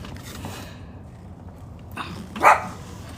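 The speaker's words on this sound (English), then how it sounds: "no barking. No barking. You know the rules." A single short dog bark or yip rings out once, moderately close, against a quiet background with faint rustling before it.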